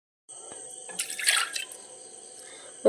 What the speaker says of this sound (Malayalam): കുറച്ച് വെള്ളം കൂടി ഒഴിച്ചെടുത്തിട്ട്